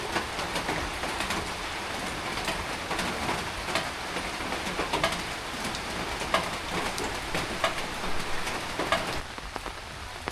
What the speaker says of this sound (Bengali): টিপ টিপ করে বৃষ্টি পড়তেছে